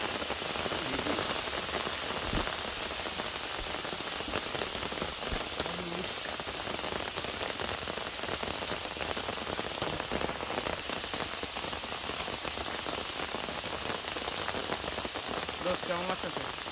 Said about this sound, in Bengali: বৃষ্টি জলে নেমে গেছে।